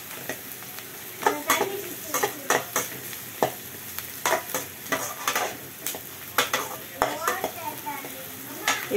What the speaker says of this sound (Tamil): வெங்காயம் கொஞ்சம் வதங்கிடுச்சு.